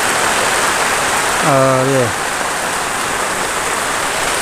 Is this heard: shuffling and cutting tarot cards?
no